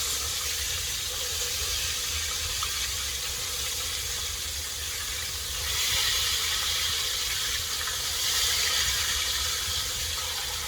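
A steady sizzling hiss of pork chops frying in a hot pan continues throughout, briefly rising louder partway through.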